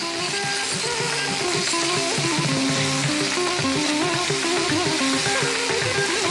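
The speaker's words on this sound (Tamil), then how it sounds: "சிக்கன் கொஞ்சம் எண்ணெயில் வதங்கட்டும்" Chicken sautéing in oil for a Tamil green chicken dish gives a continuous, dense sizzle with a loud, steady crackle that fills the whole stretch, heard up close with no talking.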